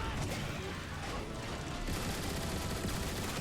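A gun emplacement turret in Transformers: War for Cybertron fires a dense, continuous rattling barrage, loud and close throughout, with mechanical clatter mixed in.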